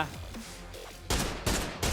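Gunfire in PUBG during a Thailand Master Series final match, several sharp rapid bursts of shots in the second half after a quieter stretch, fairly distant and moderately loud.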